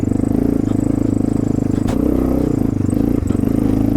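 A Honda XR650L dirt bike engine drones steadily and loudly, climbing a rutted hill under hard throttle, with rhythmic pulsing and a couple of brief clunks from the rough terrain.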